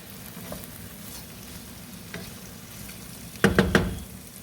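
Garlic frying in a pan for pasta with vegetables, a steady close sizzle that runs the whole time, then a brief burst of loud clattering stirring near the end.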